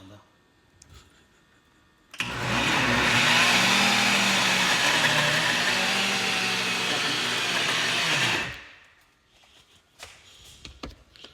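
A mixer grinder whirs loudly and abruptly to life, runs at a steady high pitch for about six seconds, then winds down, with quieter sounds before and after.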